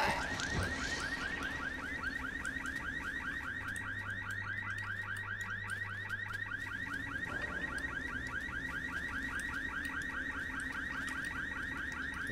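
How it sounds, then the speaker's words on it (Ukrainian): A car alarm in the video game Dying Light blares continuously, its rapid warbling tone repeating steadily and loudly throughout, with no one speaking. "Де та довбана сигналізація?"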